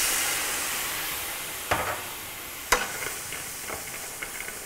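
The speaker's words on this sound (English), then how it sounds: "And then this is going to sizzle." Herbs and almonds sizzle and hiss steadily in a hot pan, with a few sharp clatters of stirring and light crackles breaking through the constant frying sound.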